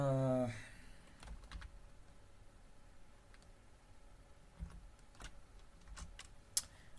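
Quiet clicks from a computer keyboard come in scattered bursts and single taps after a brief tonal sound at the start, sparse and close.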